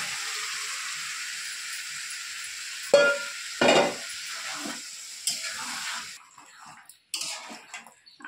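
Chicken pieces stirred and fried in oil-releasing spiced masala for chicken kosha, a steady sizzle with sharp scraping and knocking of the spoon against the pan at intervals, fading toward the end.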